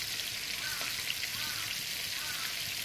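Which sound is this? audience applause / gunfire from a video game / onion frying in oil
onion frying in oil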